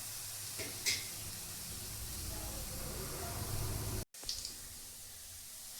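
Peanuts fry in a pan for chutney, giving a soft, steady sizzle and faint crackle with a few light clicks, quiet and continuous throughout.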